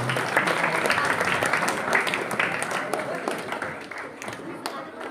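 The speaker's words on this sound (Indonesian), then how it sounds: "Tepuk tangan buat kalian semuanya ya." Junior high school students applauding at a halal bi halal gathering in a school, a broad, continuous crowd clapping that stays strong and then slowly fades toward the end.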